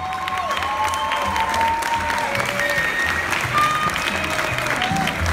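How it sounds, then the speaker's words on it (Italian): Audience at a Latin dance show applauds a dance couple, steady clapping and crowd noise filling the room, with music tones and cheering faintly underneath. "voglio un applauso speciale per Alice e Davide"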